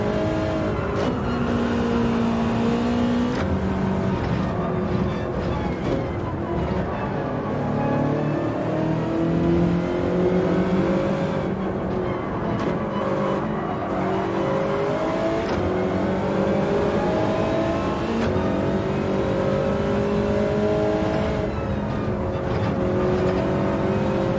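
Toyota Trophy race cars lapping Deep Forest Raceway in Gran Turismo 7, engines droning and revving steadily as the pack runs bumper to bumper, loud and continuous with shifting pitch throughout.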